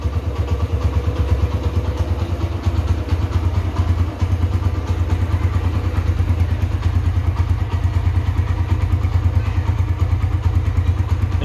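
A 2011 Honda Tiger Revo motorcycle engine idles steadily up close, a loud, even, rapid low thumping that holds a constant pace throughout with no revving and no voices.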